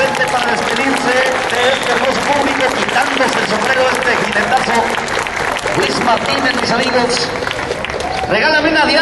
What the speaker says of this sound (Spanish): saludar a todo el público que no han dejado de aplaudir estos bonitos caballos de Luis Martínez de Aragón.